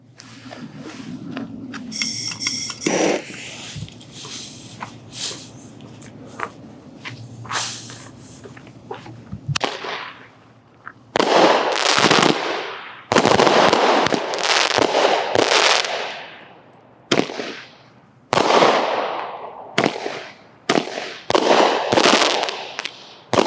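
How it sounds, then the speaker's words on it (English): Hillbilly Hot Tub firework cake by Cutting Edge going off, with hissing launches at first, then a long series of loud cracking bursts at an uneven pace, with short gaps between shots. "we're going to start, I think, with Hillbilly Hot Tub Hillbilly hot tub. by Cutting Edge."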